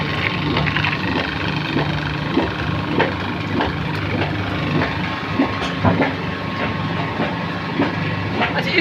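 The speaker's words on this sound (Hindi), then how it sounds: "ये इसके अंदर 2 पंप लगे हुए हैं, ये फिल्ट्रेशन की मशीन है।" A mustard oil filtration machine with two pumps runs steadily, a continuous mechanical drone with rhythmic clicking and knocking throughout, fairly loud and close, with no talk over it.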